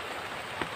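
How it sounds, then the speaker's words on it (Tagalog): Rain falls in a steady, soft, faint hiss for a brief moment, with no other sound standing out. "Umuulan na bro."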